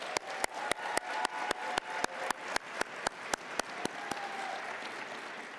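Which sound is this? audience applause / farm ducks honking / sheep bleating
audience applause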